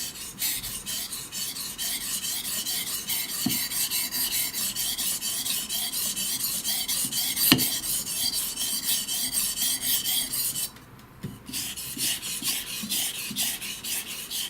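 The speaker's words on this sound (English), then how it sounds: "First I sharpen the blade, and then I become just very fine, as if I'm polishing the blade." A Japanese santoku knife is worked on a whetstone with a steady, close, continuous rasp of rapid back-and-forth strokes, briefly easing off near the end before resuming.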